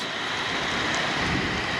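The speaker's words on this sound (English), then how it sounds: "Hopefully we just get a nice rain out of this." Steady rain falls outdoors as a storm rolls in over farm country, a continuous broadband hiss with low rumbling underneath that could be distant thunder, no voices.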